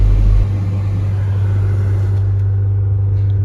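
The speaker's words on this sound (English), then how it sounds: "I'm just going to let it warm up kind of normally on its own." A Ford Focus engine idles steadily while warming up after a radiator replacement, a constant low rumble with a strong steady hum, close and continuous with no talk.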